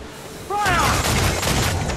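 Ship cannons firing in the pirate naval game Assassin's Creed IV: Black Flag, a sudden loud barrage that kicks in and keeps rumbling, with a shouted voice over the start of the blasts.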